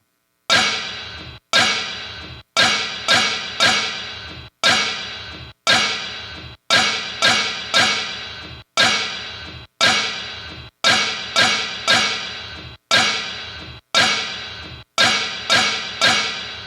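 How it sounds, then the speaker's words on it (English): Repeated metallic clanks like pots and pans struck in a steady, loud percussive rhythm, each hit ringing briefly before the next, with no voices. "to put the layer of the pots and pans, which actually, as you'll see, they don't sound terribly realistic"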